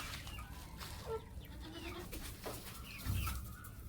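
Village hens cluck and chirp softly near a home as they are fed leftover rice, a few scattered calls over a quiet low background.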